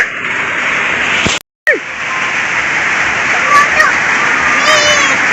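Steady heavy rain pours outdoors where children are bathing in it, a dense continuous hiss broken by a short gap, with faint voices and bird-like chirps near the end.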